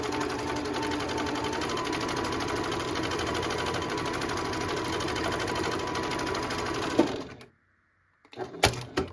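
A Janome HD9 sewing machine stitching during free motion quilting, a fast steady mechanical whir with rapid needle clatter for about seven seconds, close and loud, then stopping abruptly, followed by a few brief clicks.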